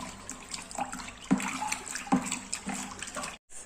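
Liquid weed killer being mixed with red Harpic, a continuous watery sloshing and splashing close by, with a couple of sharper knocks and a short silent gap near the end.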